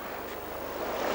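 On the Estonian seashore, waves wash softly against the shore in a brief, faint roar mixed with wind.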